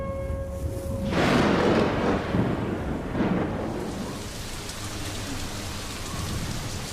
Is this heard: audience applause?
no